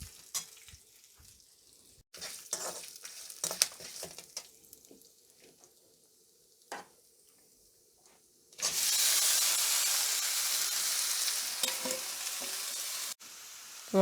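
Tomatoes go into a hot pan with tamarind and curry leaves for an onion-free tomato chutney; after sparse stirring taps, a loud, sustained sizzle erupts and continues alone.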